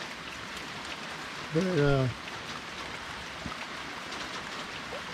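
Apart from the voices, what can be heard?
heavy rain falling, monsoon downpour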